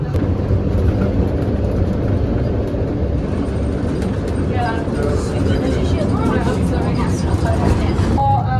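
A tourist train in Prague rumbles along steadily with low rolling noise and faint rattles, while voices talk intermittently over the ride.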